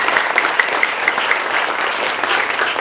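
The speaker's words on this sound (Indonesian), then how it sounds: "Tepuk tangan dulu." Audience applause at a national Christmas charity gathering, dense sustained clapping from a large crowd, loud and close, with no talk over it.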